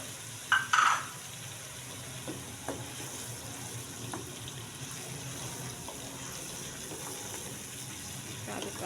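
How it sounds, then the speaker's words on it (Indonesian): Ground chili paste of large red and curly chilies sautéing in a pan while being stirred, a soft steady sizzle under occasional scrapes and a brief clatter near the start, with no one speaking. "Kita aduk-aduk. Kita tumis sampai bumbunya matang ya, sampai harum."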